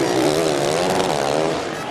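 A 450-class motocross bike at Southwick screams at full throttle in a 2022 Pro Motocross race, a loud, steady, buzzing engine wail with rising pitch and no voices over it.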